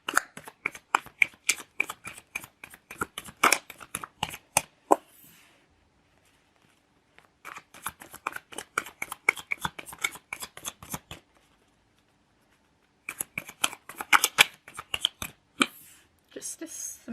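Tarot cards are shuffled by hand in rapid, crisp riffling bursts of dense flicks, pausing between rounds, with three separate shuffling stretches close by.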